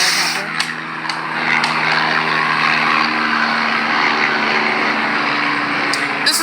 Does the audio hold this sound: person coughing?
no